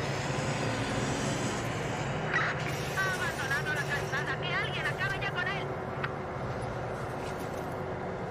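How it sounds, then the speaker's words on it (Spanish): In the video game Watch Dogs 2, a pursuing helicopter's engine makes a steady, low droning hum under continuous game sounds, with someone talking over it. "El helicóptero me sigue"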